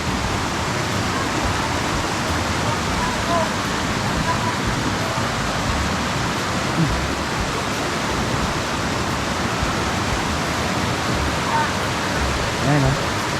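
A river in Zambales with bright white stones flows steadily, a continuous loud rushing of water that fills the whole stretch without breaks, and a voice is only faintly present underneath.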